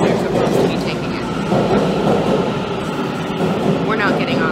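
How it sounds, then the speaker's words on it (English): A train rumbles loudly and continuously nearby as it arrives at a station in Japan, with a broad roar of wheels and machinery filling the whole stretch and a brief high squeal near the end. "We're not getting on this train."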